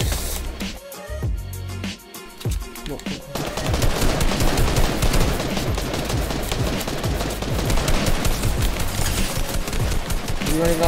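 Rapid bursts of automatic gunfire in the Fortnite video game, dense and loud, with sharp single shots at first giving way to a continuous rattling barrage.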